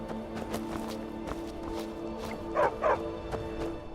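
A dog in the Skyrim video game barks twice in quick succession, clear and mid-distance, over a steady low game ambience with faint footsteps.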